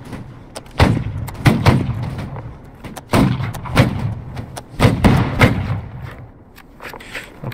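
Reenactment line of 44th Foot soldiers firing muskets, heard as a series of sharp thudding reports spaced irregularly over several seconds, fairly close and loud with no talk.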